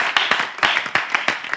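A television studio audience claps for a young girl called onto the set, giving distinct, fairly loud hand claps in an uneven rhythm that ends quickly.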